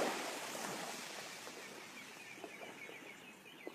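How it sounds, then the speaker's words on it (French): Birds chirp and call faintly outdoors at sunset on the coast of Mauritius, with a steady wash of sea surf underneath and a few sharper bird notes standing out near the end. "Derrière, on peut entendre les oiseaux, peut-être que vous les entendez."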